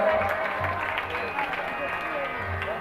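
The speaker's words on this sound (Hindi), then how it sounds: "रमेश दास जी की तरफ से बहुत बहुत जोरदार तालियों से स्वागत हमारे" An audience at a Ram Katha claps in welcome, a brief, steady patter of applause under a faint hum.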